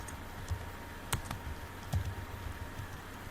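A few scattered clicks and taps from typing on a worn, beaten-up computer keyboard, close and fairly quiet, with short pauses between keystrokes over a low room hum.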